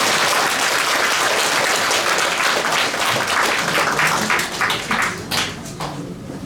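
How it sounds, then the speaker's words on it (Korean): A church congregation claps in welcome for a guest pastor at a first-anniversary worship service, a loud, dense burst of applause that carries on steadily and tapers off near the end. "우리 박수로 환영하겠습니다."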